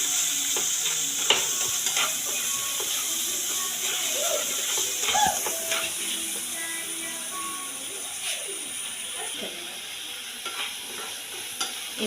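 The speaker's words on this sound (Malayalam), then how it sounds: "ഉപ്പ്, മഞ്ഞൾപ്പൊടി നന്നായിട്ടൊന്ന് യോജിപ്പിച്ചു കൊടുക്കും" Squid with salt and turmeric sizzles in a pan as a utensil stirs and scrapes it repeatedly, with scattered clicks and knocks over a steady frying hiss.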